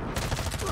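Gunfire in the video game Warzone 2.0, a short burst of rapid repeated shots, loud and close.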